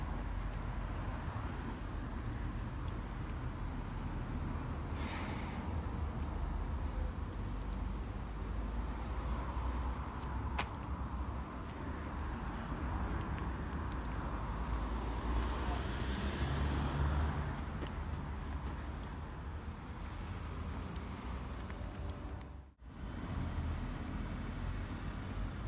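A car passes on the road in Chichester, UK, a soft swelling whoosh near the middle, then another faint pass later, set against steady wind and distant traffic rumble.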